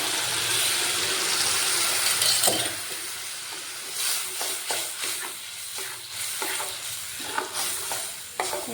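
Spice masala for a fish curry goes into hot oil with a loud burst of sizzling, then is stirred with repeated scraping strokes as the frying hiss settles lower.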